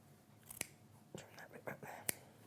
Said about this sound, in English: There's something very satisfying about the sound of a good pair of scissors.